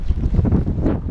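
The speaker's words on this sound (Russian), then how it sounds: "Порывы ветра довольно сильные." Strong wind gusts buffet the microphone at an apiary in March, a loud, rough rumbling roar that swells and dips without any talking.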